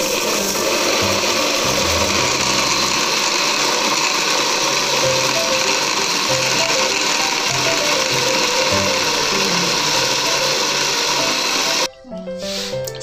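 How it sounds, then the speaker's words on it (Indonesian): Blender grinding garlic and chili with a little water for cuko pempek, a loud steady whirring drone running continuously before cutting off near the end. "Kemudian kita blender hingga"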